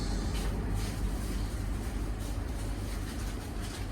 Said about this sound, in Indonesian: baru aja kereta api Jenggala berangkat dari stasiun Sepanjang dan sekarang kita merasakan duduk di kereta kelas bisnis